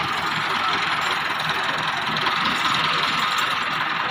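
A tractor engine runs with a steady, rough rumble at an even level, close by, with no talk over it.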